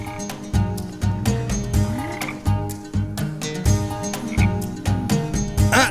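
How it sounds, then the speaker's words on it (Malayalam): A green frog croaks close and loud in a dubbed film scene, its calls coming in a steady, rhythmic series of throaty pulses over a low background bed. "ദോ അവിടെ പച്ചത്തവള ഊതിയപ്പോഴത്തേക്ക് മേഘം വന്നല്ലോ."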